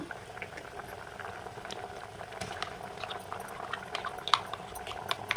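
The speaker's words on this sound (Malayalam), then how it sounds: "കറിയിലേക്ക് ഒഴിച്ച് തിളപ്പിക്കാം" A pot of thick horsegram sambar bubbles and pops steadily, the small bursts close and fairly quiet, with no talking.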